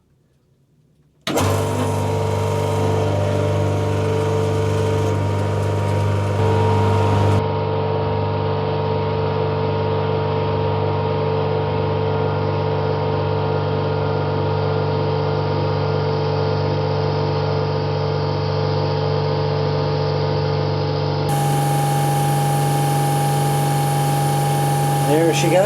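A sailboat's watermaker pump runs steadily, making fresh water; a loud, continuous mechanical drone with a strong low hum and a whining tone, starting abruptly and holding for the whole stretch, with a slight change in pitch near the end.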